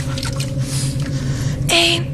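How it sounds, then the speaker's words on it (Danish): Water squelches and drips inside a dark box on a Danish blackout game show. Close, fairly loud wet squishing and dribbling builds to a sharper splash near the end. "Det er bare vand."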